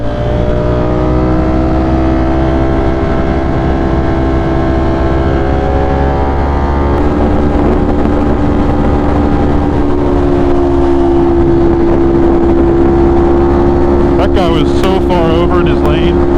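A 2025 Ducati Panigale V4 motorcycle engine warms up, idling loud and steady with harmonic tone that rises in pitch as it is revved around midway, with brief clatter near the end.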